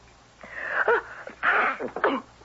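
A single sneeze with a sharp breathy burst, followed by a second snort-like exhale, close by in a quiet room.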